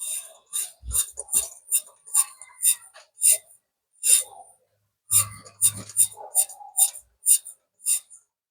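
A worn rear wheel bearing from a Perodua Alza is spun by hand, giving a series of sharp, close metallic clicks and ticks in an uneven rhythm, with short pauses between bursts.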